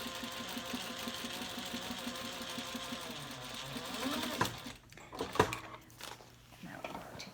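A home sewing machine stitches a fabric seam along an earlier stitch line while a bag's sides and boxed corners are assembled, running steadily and rapidly for about four seconds before stopping, then a few close handling clunks follow.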